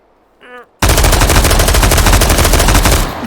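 Stockless AR-18 family rifle firing in H3VR, a rapid full-auto burst of loud gunshots sustained for over two seconds after a brief quiet lead-in with a short tonal sound.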